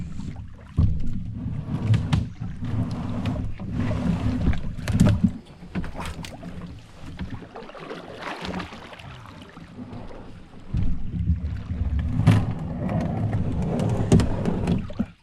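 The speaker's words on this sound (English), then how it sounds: "I'm gonna try to pull the boat up and over these log jams" Heavy scraping and thudding of a canoe hull being hauled over river log jams, with a pause midway before the dragging resumes; wind noise underneath.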